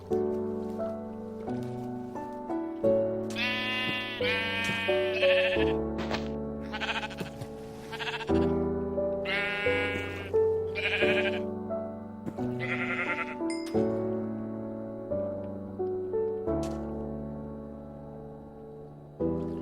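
Minecraft sheep bleat repeatedly in short, clear calls spaced through the stretch, loud and close, with a soft game backdrop and no talk.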